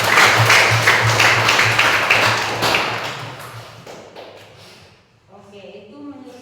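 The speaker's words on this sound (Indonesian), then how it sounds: "Mari kita tepuk tangan." Applause from a classroom group of students, a dense burst of hand clapping that fades out over several seconds, followed by a voice speaking.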